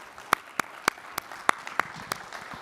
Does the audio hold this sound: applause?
yes